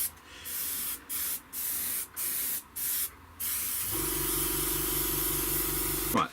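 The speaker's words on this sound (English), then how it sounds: "some extra acrylics flat varnish to start off with, and just give that a light dusting over everywhere I've worked." Bursts of acrylic flat varnish sprayed from a can over a 1/32 Hasegawa FW190 D-9 model aircraft: six short hissing puffs in a steady rhythm, close and fairly loud, then a lower steady hum.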